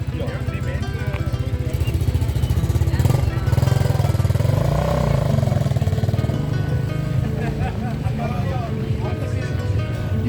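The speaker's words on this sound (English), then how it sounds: "You have bikes of every conceivable size and shape here." Many motorcycles of varied sizes idle and rev at the 2025 Canola Run registration and ride start, a steady close engine rumble that fills the scene, with people talking underneath.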